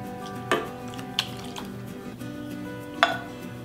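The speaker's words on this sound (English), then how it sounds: "And just stir that in." Canned Rotel tomatoes being stirred into a thick beer cheese dip, giving soft wet squishing with a few sharp utensil taps against the bowl, close and quiet with no talking.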